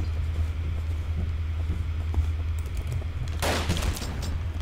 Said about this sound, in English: I threw a grenade, at least I threw a grenade.